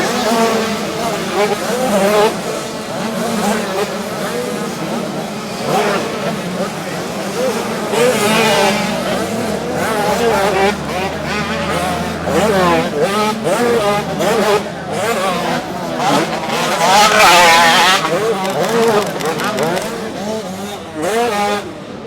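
Loud racing engines roar continuously as cars pass one after another, the pitch rising and falling, with some talking underneath.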